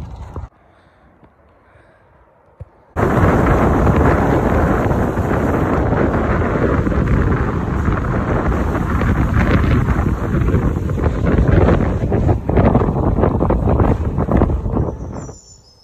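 Headwind buffeting the microphone of a cyclist out riding, a loud rushing roar that bursts in after a few seconds of near quiet and then keeps on, gusty and unbroken, until it drops away at the very end.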